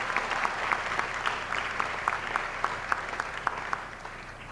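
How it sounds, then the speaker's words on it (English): Steady applause from a crowd at a high school graduation ceremony, dense clapping with a few sharper individual claps standing out, continuing throughout at moderate loudness. "Can we give Grace and Kalia one more round of applause for their amazing hard work"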